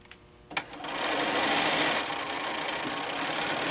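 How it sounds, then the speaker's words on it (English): A sewing machine stitching a camper-print fabric panel for a machine cover, starting after a couple of clicks and then running in a fast, steady mechanical whir close up, easing slightly near the end. "Sew all the way down."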